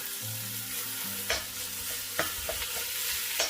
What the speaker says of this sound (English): let's go ahead and add our meat now. So that's the ground beef and ground pork.